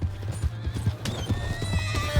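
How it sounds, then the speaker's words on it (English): A horse's hooves clip-clop in quick galloping beats while the horse neighs sharply partway through, heard in Red Dead Redemption 2 with game ambience around it. "That's my horse!"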